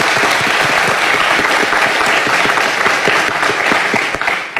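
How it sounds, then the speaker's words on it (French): A studio audience applauds on a television entertainment program. The clapping is loud, continuous and dense, and it thins slightly in the last moments. "J'aimerais qu'on les applaudisse tous, s'il vous plaît"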